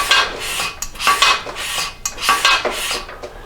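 The front forks of a 1983 BMW R80ST motorcycle slide down under their own weight, making repeated close metallic rubbing and scraping strokes in short, uneven bursts.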